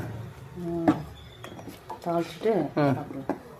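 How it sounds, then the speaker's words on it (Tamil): Cooking pots and vessels clatter and clink in a kitchen as they are washed, with several sharp metallic knocks scattered through the clip while voices talk over them. "பாத்திரம் கழுவி வச்சுட்டீங்க"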